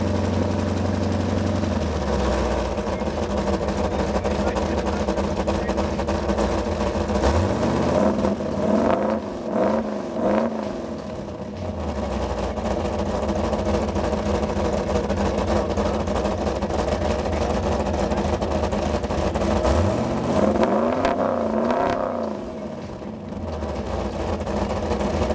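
A car engine at an outdoor car show idles steadily nearby, rising into two distinct revs that swell and fall back to idle, no talking.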